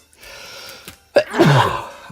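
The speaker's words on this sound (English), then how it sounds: "Oh, I gotta sneeze, man." A single sneeze bursts out close by after a quiet breathy build-up, sharp at the start and trailing off into a wheezy exhale.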